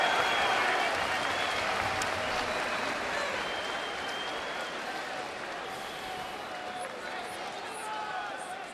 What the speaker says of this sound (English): some members of the crowd were chanting Louis, Louis, Louis